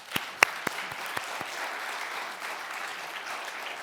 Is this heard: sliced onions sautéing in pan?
no